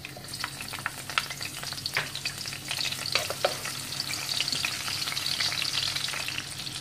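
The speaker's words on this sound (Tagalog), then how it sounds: "tayo po ay magigisa ng sibuyas" Onion sautéed in oil in a pan for binagoongang baboy with okra, a dense crackling sizzle punctuated by spatula scrapes and taps early on, close up with no speech.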